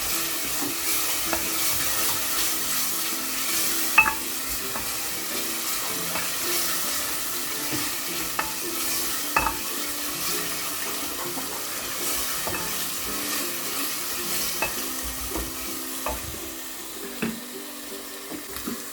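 Potatoes frying in a pan with turmeric for an aloo matar curry, a continuous moderate sizzle broken by regular scraping stirs and occasional clinks of a spoon on the pan.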